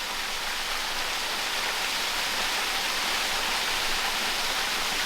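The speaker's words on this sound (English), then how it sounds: "that waterfall's man-made because that adit is man-made, so then the water's running through it" A waterfall pouring through a man-made adit in an abandoned Welsh slate mine, a dense, even hiss of falling water rushing continuously and loudly throughout, with no talk.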